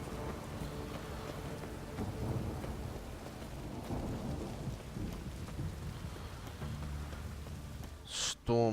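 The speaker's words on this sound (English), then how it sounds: "Storm's coming." Thunderstorm with rain in The Witcher 3: steady rain and low rolling thunder throughout, ending in a sharp, loud burst near the close.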